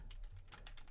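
Quick burst of keystrokes on a computer keyboard, several close, light clicks in rapid succession with no talking.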